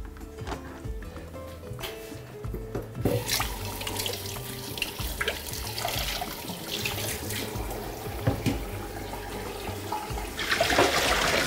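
Cold tap water runs steadily over green beans in a colander in a kitchen sink, splashing continuously with small clatters as the beans shift, rising slightly louder near the end.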